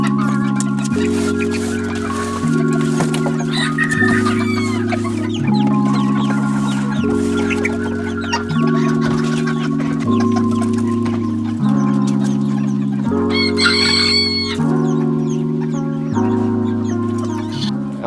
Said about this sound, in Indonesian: Ayam terkecil di dunia dia.